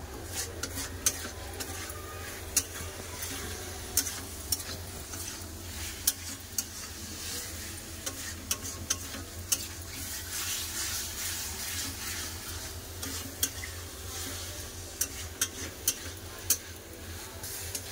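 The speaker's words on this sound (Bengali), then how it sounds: "এবার সব খুব ভালো করে কষে নেব।" Pumpkin, potato and paneer curry sizzles and fries steadily in a pan while a spatula scrapes and taps the metal every second or two, a close, quiet, continuous cooking sound.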